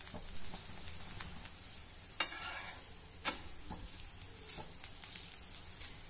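Thalipeeth frying on a pan over medium-low gas with oil, a quiet continuous sizzle broken by a couple of sharp clinks and scraping stirs.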